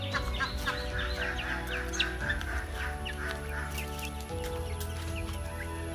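Native country hen with newly hatched Aseel chicks clucking and peeping, a continuous chorus of soft clucks and high chirps over a steady background hum.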